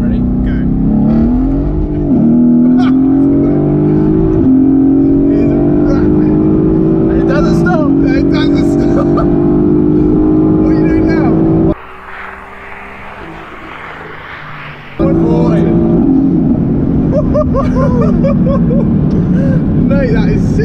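A Renntech-tuned Mercedes-AMG supercar accelerates hard, its loud engine climbing steadily in pitch through long pulls. A brief drop near the middle marks a gear change before the revs climb again, with people talking over it.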